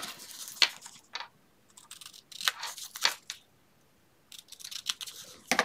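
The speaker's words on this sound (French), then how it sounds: "Je coupe." Paper cut with scissors for a scrapbook album page: a series of crisp close snips and rustles in irregular bursts, with short quiet gaps between the cuts.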